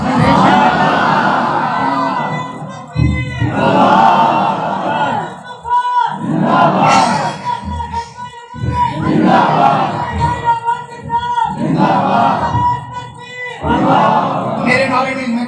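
A large gathering at a religious sermon on the Prophet's life chants slogans in loud, rhythmic call-and-response waves, a lead voice shouting and the crowd answering together in powerful repeated bursts.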